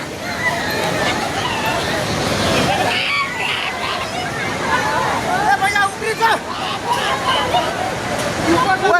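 Floodwater of the swollen Trishuli river rushing in a loud, constant roar, with panicked voices shouting and talking over it throughout.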